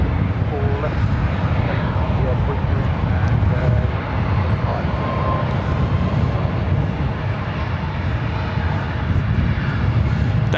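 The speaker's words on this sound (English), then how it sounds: "I also have Eva Air Flight 12 heading here to the north side" Eva Air airliner on approach to the north side runways at LAX, a steady broad roar of jet engines that stays loud throughout with a low rumble, with commentary talk layered over it.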